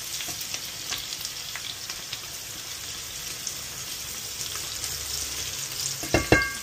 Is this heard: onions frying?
yes